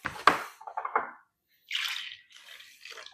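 Milk is poured into a bowl of cinnamon brioche, French bread and beaten eggs, with short wet splashing and gurgling bursts at close range and a quiet gap between them.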